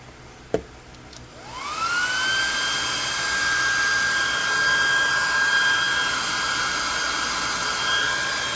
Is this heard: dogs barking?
no